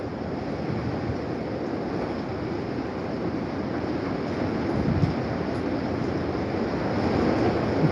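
Hurricane-force wind gusts roar steadily in Santa Cruz, Jamaica, a dense, unbroken rushing that swells slightly toward the end, with no voices.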